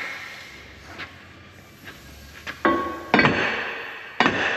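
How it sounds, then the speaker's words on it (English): Air hammer bursts against metal on a military dozer: a few faint taps, then three louder sharp rattling blasts, close by, with no talk. "Air hammer"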